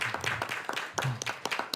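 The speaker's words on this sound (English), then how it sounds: "Want to give them all a round of applause." A round of applause for students at a school board meeting, a short burst of scattered clapping from a small group in a room.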